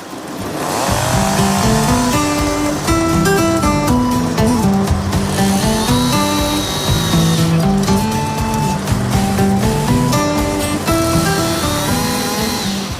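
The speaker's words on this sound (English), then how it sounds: "the chainsaw, I was amazed at, for the size that it is, how much power that it has" A small Husqvarna chainsaw revs loudly and continuously, its engine pitch rising and falling as it bites into tree branches over several seconds.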